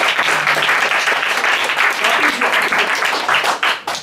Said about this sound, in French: Ah, regarde, on applaudit, on applaudit.